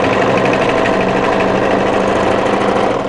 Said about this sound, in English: just gradually aim the overlocker off